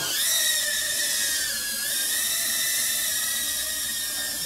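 An Eachine E012 mini quadcopter hovers and flies, its small motors whining in a high, steady buzz that wavers slightly in pitch, close and continuous, with no talk.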